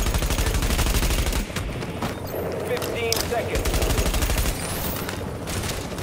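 A light machine gun fires in rapid sustained bursts in Mirror's Edge Catalyst, a dense continuous rattle that stays loud and close throughout.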